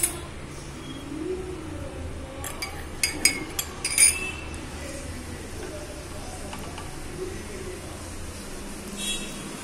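A spoon clinks against tea cups as sugar is stirred in, giving a handful of light, bright taps clustered together against a soft room background with some talking nearby.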